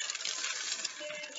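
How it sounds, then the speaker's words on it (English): A whole bag of chocolate chips is poured into cookie dough in a home kitchen, giving a dense, steady rattling patter that runs without a break for the full moment, close and fairly loud, with no voices. "now we can add in our chocolate chips. We want the whole bag."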